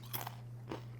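Crunching bites of fried tortilla chips for migas, two or three crisp, close chews in a quiet kitchen over a steady low hum.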